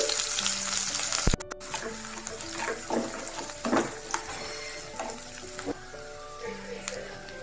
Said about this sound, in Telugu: ఒక 2 ఉల్లిపాయలు సన్నగా తరుక్కున్న వీటిని వేసి ఎర్రగా వేపుకోవాలి.